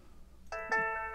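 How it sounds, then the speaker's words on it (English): A phone message notification sounds as a short two-note electronic chime that rings on briefly, clear and close against a quiet room. "was a message came in on the phone"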